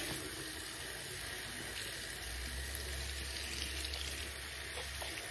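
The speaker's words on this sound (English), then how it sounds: "I just gotta wash my hands." Steady water runs from a tap while hands are washed, a continuous soft rushing hiss with a low rumble joining partway through. No one speaks.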